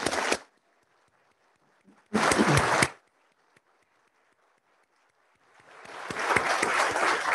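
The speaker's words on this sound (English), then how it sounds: "Let's give him a big round of applause" Applause for a police officer at an Officer of the Year award ceremony comes in three bursts: a brief clap at the start, a short loud burst, then a swelling, sustained round that builds to the end.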